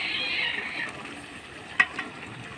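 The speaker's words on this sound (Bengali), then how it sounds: "এখন আমি বাকি সবজিগুলো সবগুলো ঢেলে দেব।" Mixed vegetables poured into a hot pan of half-cooked dal for a hotel-style Bangladeshi sobji dal bhaji, giving a brief burst of sizzling that fades, followed by a light clink of a utensil near the end.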